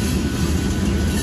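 A long freight train of hopper and gravel cars rolls past close by, a loud continuous rumble of wheels and rail noise with no pause through the moment.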